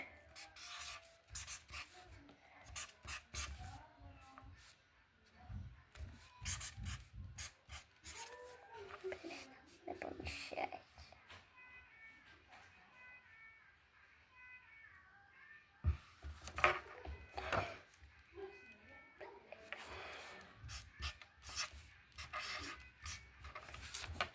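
A pen handwriting a wish on a greeting card gives close, scratchy, irregular strokes that come in short bursts, with faint voice-like sounds in the background.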